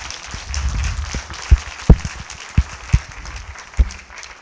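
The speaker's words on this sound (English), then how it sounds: "let's clap for them" An audience at an annual general meeting of a human resource management institute claps steadily, with a few sharper, louder claps standing out from the crowd.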